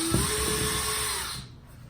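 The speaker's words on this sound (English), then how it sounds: "get in the drill, come up, take it out of the wall." A power drill removing a screw from a drywall wall whines steadily at close range, then spins down and stops; no talking.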